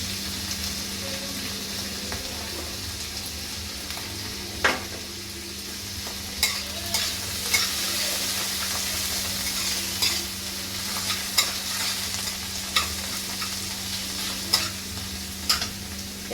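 Kakrol stuffing and seeds are stirred in a frying pan over a low, constant sizzle, with scattered sharp scrapes and clinks of the spoon against the pan, and no voices.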